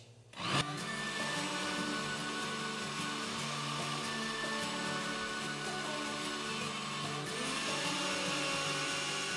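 A blender beats chicken pie batter in a steady, loud motor whir that starts abruptly after a brief pause and runs continuously, with a slight shift in pitch near the end.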